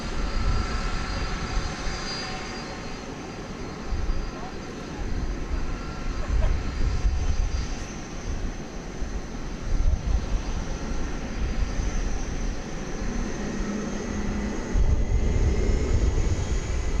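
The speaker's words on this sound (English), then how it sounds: "Flight 8 using up most of the runway as it departs on its long flight to Sydney" A jet airliner on Flight 8 to Sydney takes off from a long runway at DFW Airport, a steady broad engine roar holding for the whole stretch with a low rumble and faint high whine.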